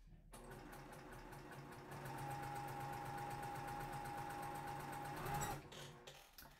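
Sewing machine running continuously as two small fabric squares are stitched right sides together, a steady mechanical whir with a faint hum, stopping abruptly near the end.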